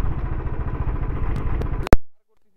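Motorcycle riding along a rural road toward Samthar village, its engine a steady near rumble for nearly two seconds before a sharp clattering knock, then an abrupt cut to silence.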